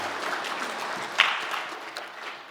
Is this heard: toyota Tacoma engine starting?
no